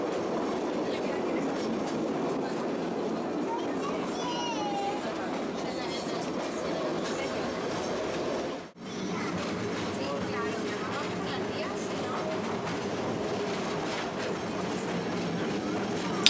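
The Soller Railway's narrow gauge train rolls along its track toward Palma with a continuous rumbling clatter of wheels and carriages, steady and fairly close, broken by one brief dip midway.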